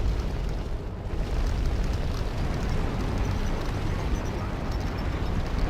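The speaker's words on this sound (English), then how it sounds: "We're poking through it with our flamethrower" Roaring flamethrower blast and fiery burning against an enemy gunship in Battlefield Vietnam, a dense continuous whoosh and rumble, loud and close, with no speech.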